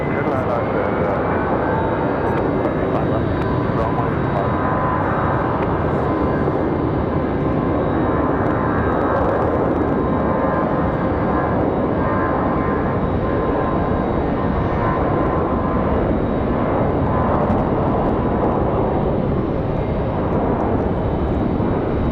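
An Icelandic airliner landing at Raleigh-Durham airport at sunset, a continuous jet engine roar holding steady and loud across the whole span, with a voice talking over it.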